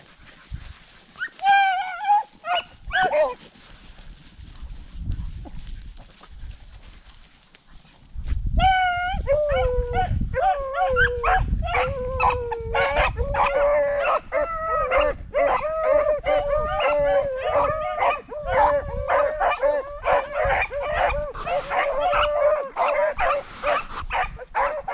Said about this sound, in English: That dog barking on it.